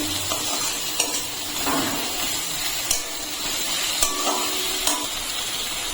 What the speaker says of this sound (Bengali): সবগুলো ভালো করে মিশিয়ে নিচ্ছি।